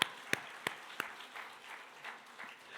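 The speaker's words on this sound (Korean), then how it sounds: "박수 한번 쳐줘." A church congregation applauds during a sermon with four sharp, evenly spaced claps, then a soft, faint spread of applause from the room.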